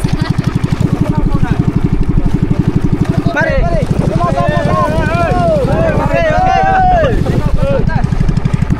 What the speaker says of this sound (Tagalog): Buhay na yung makina na mo!